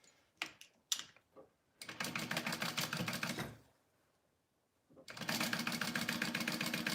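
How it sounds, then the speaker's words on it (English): Two bursts of rapid, steady mechanical stitching from a sewing machine running along a line while making a wristlet, near and fairly loud, separated by a short pause and preceded by a few clicks and handling knocks. "I'm just sewing"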